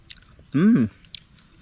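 One close, loud crunchy bite and chew into fried crispy taro, a short burst of crackling lasting under half a second, with faint rustles around it and no talking.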